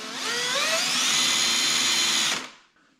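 An electric drill bores a hole into a Vespa PX scooter, a loud steady high whine held for about two seconds, then winding down and stopping.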